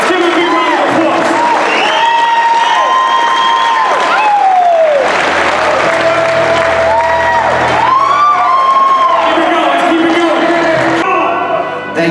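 A loud audience at a reunion event for the film Gotti claps and cheers, with whoops and shouting voices rising over sustained, dense applause that runs the whole time.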